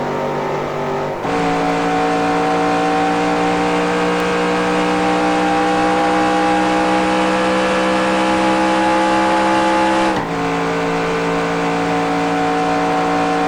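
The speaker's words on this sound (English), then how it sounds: "this is my top speed" Race car engine in the NASCAR Racing 2003 video game at Pocono, a loud steady high-pitched drone held at top speed with stable harmonic tones, briefly dipping at the start and near the end.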